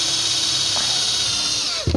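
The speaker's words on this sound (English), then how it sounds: "So if I drill the 2 holes here now with my drill" A power drill bores holes for a DIY bedroom DVD shelf, giving a loud, steady close-up whine for nearly two seconds before winding down with a short knock at the end.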